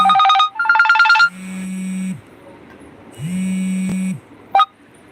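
A telephone rings in repeated electronic bursts with a steady low buzzing tone between them, fairly close and loud, with no talking over it.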